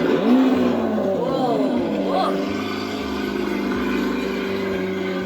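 A hoverboard motor whirs with a rising and falling pitch that changes speed, heard close under a child's and adult's voices and some laughter.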